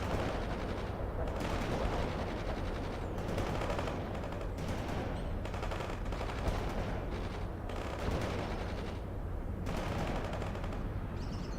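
Continuous machine-gun and rifle fire in the real-time strategy game World in Conflict, a dense crackling barrage of overlapping bursts holding steady with no pause from start to end.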